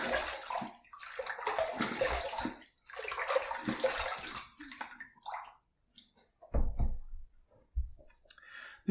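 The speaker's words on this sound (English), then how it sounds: "Let's rinse." A safety razor rinsed under running water after shaving, with bursts of tap water splashing and flowing close by, pausing between rinses, with a few clicks and handling taps of the razor near the end.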